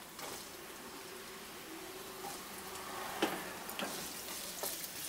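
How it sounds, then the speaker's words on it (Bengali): Potatoes fry in hot mustard oil in a wok with a constant soft sizzle, broken by a few light scraping and tapping sounds from stirring. "এখন এর মধ্যে প্রথমেই আলুগুলোকে ভেজে নিচ্ছি। আলুগুলোকে তেলের মধ্যে দিয়ে দিলাম।"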